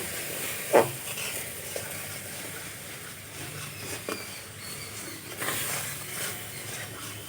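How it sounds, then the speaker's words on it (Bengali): Raw mango puree being stirred in a pan while cooking down into a thick mango leather, with a soft, close scraping and light sizzle and a few sharp clicks of the utensil against the pan; no talking. "অল্প অল্প করে দেবো, আর নাড়তে থাকবো।"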